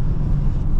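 Volkswagen ID Buzz electric van driving on winter tires, a loud, steady low rumble of road and drivetrain noise heard from inside the cabin over a brief moment.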